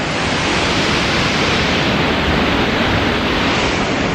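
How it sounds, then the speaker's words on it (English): Montmorency Falls beside a frozen river in winter near Quebec City roars as a steady, dense broadband rush of falling water, constant and loud with no talk over it. "there's the waterfall, Montmorency Waterfall."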